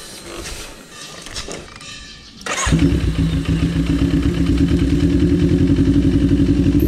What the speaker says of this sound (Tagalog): pasok ko muna yung motor